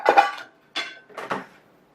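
Slices of French toast dropped into a nonstick skillet, heard as three short soft thuds and scuffs spaced over two seconds, close by with no voices.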